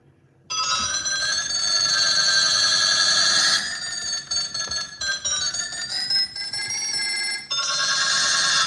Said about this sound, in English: I can layer phones on top of phones.